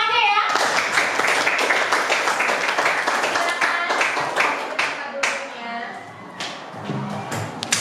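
Children clap hands together in a classroom, a dense, sustained patter of many small claps that thins toward the end, with some voices mixed in.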